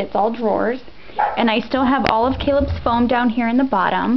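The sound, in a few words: dog barking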